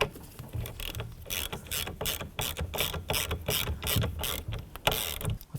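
A ratchet snugs a 21mm nut on the combination switch of a 1992-99 GMC K1500, a rapid run of crisp close clicks in uneven bursts with brief pauses between strokes.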